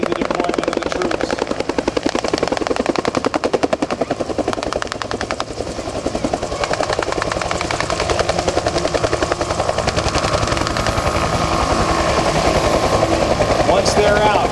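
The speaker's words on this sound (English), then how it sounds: "the Huey will lift off, come back over to its base and deploy and pick up more troops" Huey helicopter at an air show Vietnam battle reenactment, loud continuous rotor thumping close by with engine whine, bursts of gunfire and a public-address voice talking over it.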